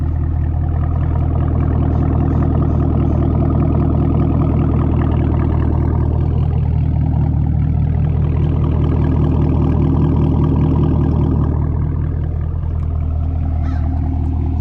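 A 2021 Chevrolet Camaro 2SS 1LE with an LT1 V8 idles through an AWE Axleback Track Edition exhaust, giving a steady, loud, deep rumble that holds evenly throughout with no talking.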